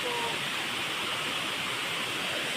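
A waterfall gives a loud, continuous broadband roar of rushing water that fills the scene without a break.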